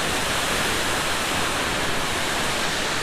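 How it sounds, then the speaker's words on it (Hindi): Water runs down a mountainside near Ukhimath in a dense, constant hiss and rush, steady and unbroken like a small waterfall, with no voices. "पहाड़ है लेकिन उस पे से भी पानी चू रहा है, पूरा पानी पानी।"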